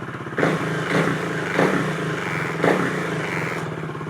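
A KTM Duke 390 single-cylinder engine with a ride-by-wire throttle fault idles with a steady thumping burble, and several short throttle blips rise and fall close by, with no talk over it.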